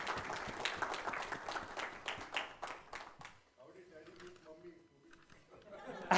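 A book launch audience gives a round of applause: moderate clapping and chatter for about three and a half seconds, then it dies down into quieter murmuring and faint voices.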